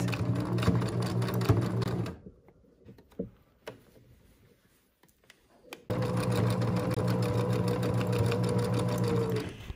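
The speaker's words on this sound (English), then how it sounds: "Now when you're sewing, always make sure that the fabric stays straight." A domestic sewing machine runs an overcast finishing stitch on stretch fabric, a loud steady whirring hum that stops for a few seconds with faint clicks and handling, then restarts and runs continuously to the end.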